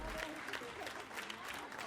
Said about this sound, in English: You hear the clapping, the happy noises?